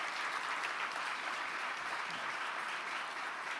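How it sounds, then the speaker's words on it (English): Audience applause at a university event introducing a new head coach, a faint, steady wash of crowd clapping heard at a distance. "Let's give a round of applause to you."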